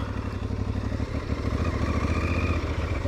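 Aprilia Tuareg 660 adventure motorcycle with a 660 cc engine, a loud, close, throbbing engine note with a rapid even pulse that swells slightly as it pulls, heard alone.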